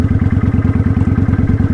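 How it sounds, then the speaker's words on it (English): A motorcycle engine runs close and loud with a rapid, even throbbing pulse while the rider changes from second to third gear; the beat holds steady throughout with no voices. "I was in second, I'm gonna go to third."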